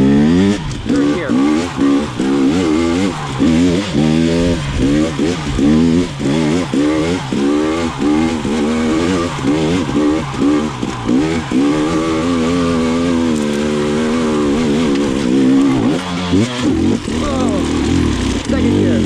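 A 2020 KTM 300 XC TPI dirt bike fitted with a low-compression head insert revs hard in third gear while climbing, its loud, close engine note rising and falling in rapid, wavering surges throughout.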